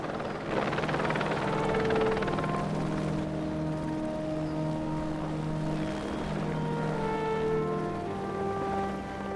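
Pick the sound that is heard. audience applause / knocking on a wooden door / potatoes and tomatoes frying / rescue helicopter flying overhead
rescue helicopter flying overhead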